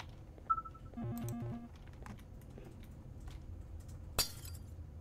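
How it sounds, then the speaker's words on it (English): Yellow glass shatters in the Garten of Banban horror game, a sharp bright crash near the end after soft clicks and a short tonal chime, with no talking. "Break the glass."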